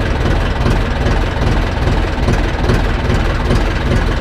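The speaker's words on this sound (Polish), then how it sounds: "Słyszycie, że on ledwo co łazi, jeszcze zmniejszymy mu gaz." An Ursus C-360 tractor engine idles at very low revs, a loud, close, steady diesel rumble with an even low knocking throb throughout.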